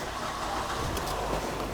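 A car engine cranks and runs steadily at close range during an EVAP system check, with the key turned on and the throttle pedal left untouched; a continuous low rumble fills the scene without speech.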